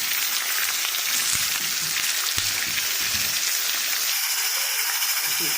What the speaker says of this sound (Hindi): अब मैं इसमें चिकन शामिल करूँगी। चिकन शामिल करके इसको अच्छी तरह से भून लें।